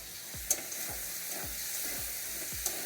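Small molonti fish go into a simmering Bengali curry in a pan, giving a faint steady sizzle with a few soft stirring strokes and light clinks, no speech.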